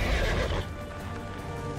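A horse mount in the fantasy game Neverwinter lets out a loud close whinny with a hoof clop, then a quieter stretch of game ambience.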